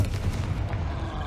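Confringo explosive spell cast in Hogwarts Legacy, a short loud booming blast with low rumbling thuds packed into about a second, close and forceful.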